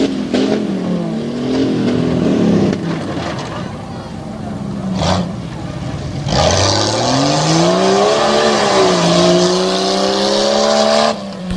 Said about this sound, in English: Pushing the truck real hard up over the tabletop into the final left-hander